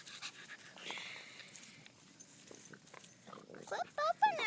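Puppies pant in quick, breathy bursts at close range while people talk nearby, with a few sharper yelps and squeals near the end.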